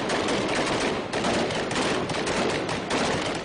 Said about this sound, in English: gunfire echoes through the compound